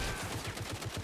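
Rapid automatic gunfire in the shooter game Caliber, a steady burst of about eight evenly spaced shots over a continuous noisy in-game background, no speech.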